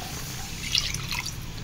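Water poured into a pot of cooking pea and potato curry, a short close splash and trickle over a steady background hiss.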